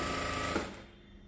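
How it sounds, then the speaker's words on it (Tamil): A sewing machine runs a short burst of plain stitching on a scrap piece of fabric, a steady close mechanical whir that cuts off partway, the hum fading as the machine stops. "ஒரு வேஸ்ட் பீஸ் வச்சு இப்போ வந்து நம்ம ஒரு சாதாரண ஒரு தையல் போட்டு பார்ப்போம்"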